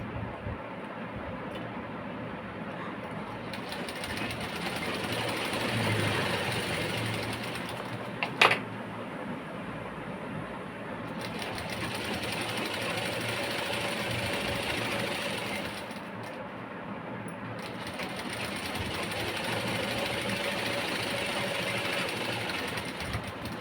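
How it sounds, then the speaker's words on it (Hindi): A sewing machine stitches a padded blouse with a continuous, fast mechanical whir. It runs close and steady, with a sharp click partway through and two short lulls, and no voices. "पलटने के बाद इसके ऊपर हम सिलाई चलाएंगे।"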